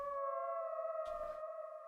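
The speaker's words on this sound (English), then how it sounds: "it's a Psalms AM pad." A Psalms AM synth pad from the God's Plan pack in the Electra synth holds steady layered tones, fairly quiet, with a brief airy swell partway through.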